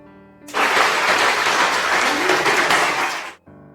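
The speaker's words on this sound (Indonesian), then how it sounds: "Tepuk tangan untuk kita semua." Classroom applause during a microteaching lesson on Wawasan Nusantara, a burst of many hands clapping together for about three seconds, fairly loud and dense, then cutting off abruptly into quiet room tone.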